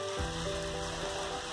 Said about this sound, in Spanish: porque está lloviendo fuerte